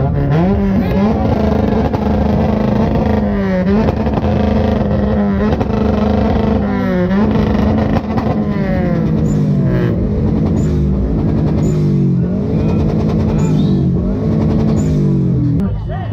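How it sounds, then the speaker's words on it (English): Loud engines rev and accelerate continuously at a Sacramento drag race, with pitch rising and falling through several throttle pulls, and voices mixed under the engine noise throughout. "The cars there, super loud."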